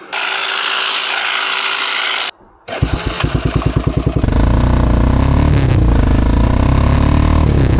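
A small two-stroke gas brush trimmer engine idles, drops out briefly, then revs up into a loud, steady high whine that stays close and continuous.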